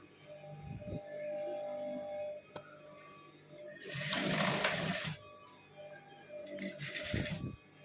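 Sewing machine stitching a lined blouse runs in two loud bursts of steady whirring, about a second long and then a shorter one, with quieter handling sounds between them.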